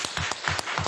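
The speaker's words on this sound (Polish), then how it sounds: "ogromne brawa" Applause at an online meeting, a few people clapping in close, irregular bursts with no talking over it.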